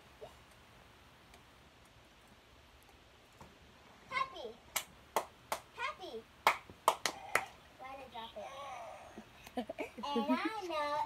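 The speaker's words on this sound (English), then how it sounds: "Clap! Clap! Clap! Clap!" Hands clap in a quick series of sharp, separate claps along to a children's song, loud and close over a soft background, with children's voices and singing joining near the end.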